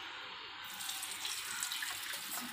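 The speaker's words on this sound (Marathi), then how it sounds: "त्यातलं पाणी आपण आता काढून घ्यायचं आहे।" Water pours steadily from a pot of cooked lentils, a continuous close splashing flow like a running tap that holds for the whole stretch, with no voices.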